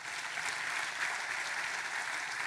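An audience claps for an event team at a talk on life as an undocumented immigrant, a dense, even patter of many hands that holds steady throughout with no speech on top.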